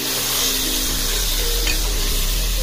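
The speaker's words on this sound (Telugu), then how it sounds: "మనము శుభ్రంగా కడిగి పెట్టుకున్నటువంటి, కలిపి పెట్టుకున్న ఈ మటన్ పీసెస్ని జాగ్రత్తగా వేసి కలుపుకోవాలి" Mutton pieces tossed into frying onions give a steady, close sizzle with scraping stirring throughout, no voices.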